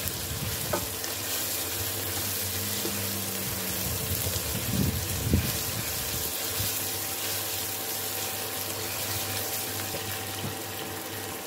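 Pork for a Samoan meat pie stuffing fries in a pan with a steady close sizzle, with a few brief stirring scrapes and clinks partway through.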